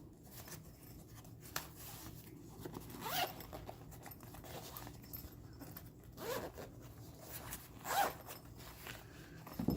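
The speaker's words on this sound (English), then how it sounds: "So let's open the pouch." A zipper on a small pouch packed with a car diagnostic scanner is pulled open in several short rasping bursts, with quiet handling rustles between them.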